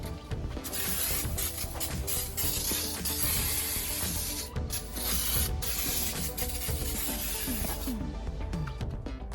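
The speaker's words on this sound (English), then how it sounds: "Parts cleaner. Let's clean some parts." Parts cleaner is sprayed onto 2019 Ram 2500 truck parts during a Procomp shock install, coming as loud, close hissing bursts with short pauses between.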